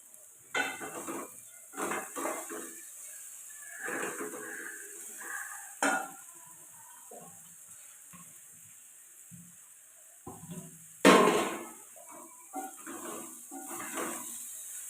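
Chopped cabbage tipped into a pan and stirred for a karela burger, with a soft sizzle and scattered scraping, clattering utensil knocks against the pan, including a sharper clatter near the end, fairly close and with no talking.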